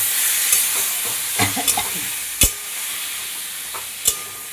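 Ginger paste, onion, garlic and green chili sizzle in a pan on a steady hiss, broken by a few scraping stirs and two sharp knocks of the spoon against the pan.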